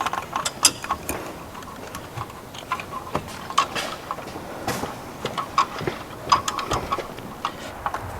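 Ratchet wrench tightening bolts while working on an old Pontiac Firebird: quiet irregular clicking and metallic ticks in short bursts, close by, with no talking.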